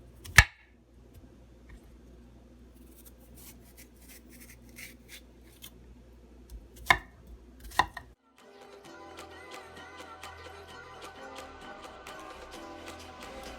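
A few sharp knife taps on a cutting board as a green banana is cut up, between quiet scraping and rustling, then a faint background hum takes over.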